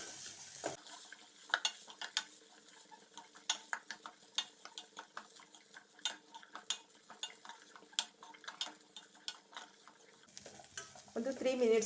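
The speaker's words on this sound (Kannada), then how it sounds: "ಎಲ್ಲ ಫ್ರೈ ಮಾಡಿಕೊಳ್ಳುವ." Chopped vegetables stir-fry in a pan for ragi egg soup, with a faint steady sizzle under frequent scraping and clinking of a spoon against the pan.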